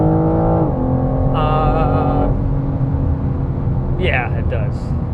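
A BMW M car driving hard through corners, its engine note rising and shifting with steady road and tyre rumble throughout, loud and close from inside the cabin, with a voice talking over it.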